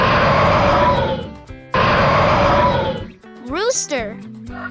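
A lion lets out two loud, raspy roars in quick succession over background music, followed by a short, sweeping voiced sound.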